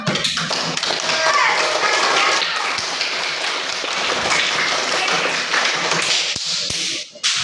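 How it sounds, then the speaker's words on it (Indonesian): An Indonesian classroom or hall audience claps together in a loud, dense burst of applause that stays steady for several seconds, then cuts off sharply near the end, with voices mixed in. "Tepuk tangan untuk kita semua."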